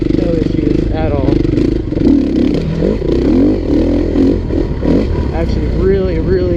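A 2016 KTM 350 EXC-F dirt bike ridden through tight trail terrain, its engine revving and rising and falling under a rider's continuous talk, loud and close.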